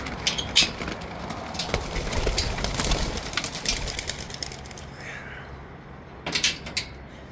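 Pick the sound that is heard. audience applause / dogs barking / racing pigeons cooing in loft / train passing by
racing pigeons cooing in loft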